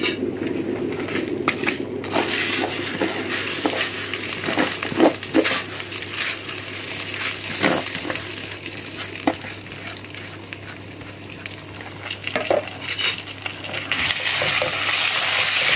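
Rice and vermicelli fry in a pot, a close, continuous sizzle broken by repeated scraping and rustling stirs, with occasional wet splatters and no talking.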